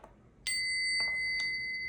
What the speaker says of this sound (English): let me ring the bell or the singing bowl for you